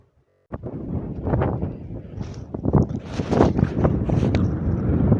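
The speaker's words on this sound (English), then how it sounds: "Now this is 7 minutes past sunset and it is extremely windy." Strong wind buffets the microphone with loud, continuous rumbling gusts that start abruptly and roar on steadily without any voices.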